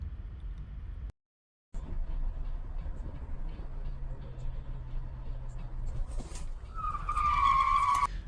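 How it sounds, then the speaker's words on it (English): A car hydroplanes and spins out on a wet Miami road, with tire noise and a rising skid squeal building toward the end over steady traffic rumble. "the driver lost control and spun out"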